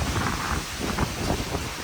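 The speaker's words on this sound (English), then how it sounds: "Dude, it is blowing nasty out here." Strong wind roars steadily against the microphone, buffeting in continuous gusts with a dense low rumble and no voices.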